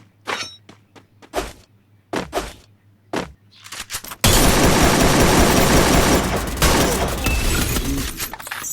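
In the video game Free Fire, several sharp, isolated thumps and clicks, then a sudden loud, sustained stretch of rapid automatic UMP gunfire that continues with dense, crackling bursts.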